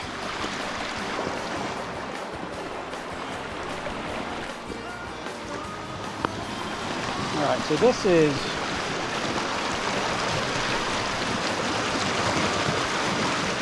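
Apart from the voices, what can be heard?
fast-flowing brown river water around a log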